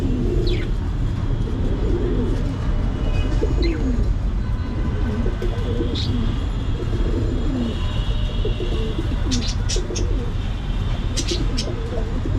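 Pigeon pairs on a rooftop coo continuously in low rolling calls, with occasional sharp chirps above a steady outdoor hum.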